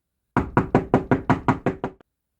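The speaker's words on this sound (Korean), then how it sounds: "아이는 외딴 집의 문을 두드렸죠." Eight evenly spaced, sharp knocks on a wooden door of a remote house, close and crisp, delivered in a steady quick rhythm with silence around them.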